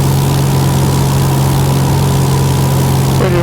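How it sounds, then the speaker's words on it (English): A light propeller aircraft touching down on runway 24 near Goodwood House, its engine a loud, steady droning hum throughout with a faint tonal shift near the end. "touching down runway 24"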